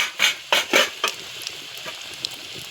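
Pieces of lote fish (Bombay duck) dropped into hot oil for deep frying, with several sharp bursts of sizzling close by that settle into a quieter, crackling fry.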